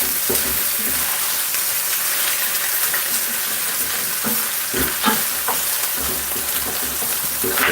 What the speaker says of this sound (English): you're going to see how I sear this off